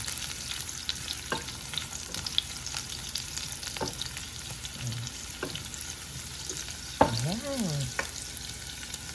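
Onions sizzling in a frying pan for chicken soup, a steady low crackle with occasional utensil scrapes and stirring knocks, fairly faint and close.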